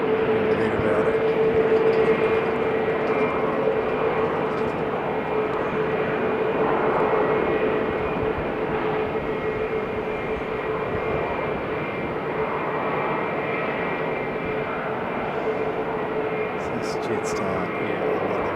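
Aircraft taking off at Sydney airport, a sustained roaring engine drone heard from a distance that holds steady and slowly eases, with faint chatter in the background.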